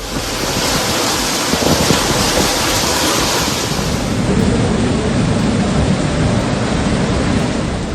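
Hurricane-force wind and rain roar along the coast in a dense, steady wash of noise, loud and unbroken for the whole stretch, with no voices.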